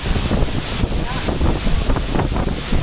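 Roar of Chelavara waterfall in Coorg during the monsoon, a dense, steady wash of broadband rushing water close to the microphone, with wind buffeting mixed in and no talk.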